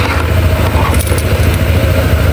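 Motorcycle keys jangling close by, a few bright metallic clinks over a low, constant engine-like rumble in the background, short and unaccompanied by speech.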